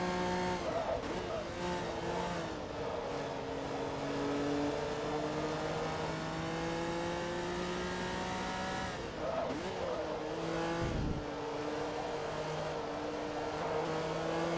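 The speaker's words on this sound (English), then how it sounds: "I just noticed this car has a very stupid high rev limiter." A Forza Motorsport 2 race car with big exhaust pipes and a high rev limiter near 10,000 RPM screams through its gears, engine pitch climbing and dropping between shifts with tire squeal, continuous and loud.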